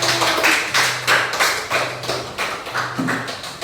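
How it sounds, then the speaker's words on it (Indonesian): Classroom applause for a student group at an Indonesian primary school, rhythmic, fairly loud clapping in steady pulses, nearly in unison, roughly two to three claps per second with no talk over it. "Tepuk tangan untuk kelompok 1."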